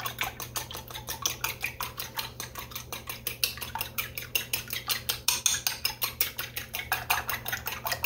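Two room-temperature eggs beaten in a bowl, a fast steady rhythm of whisk or fork clicking against the dish, close and fairly quiet, continuing without pause.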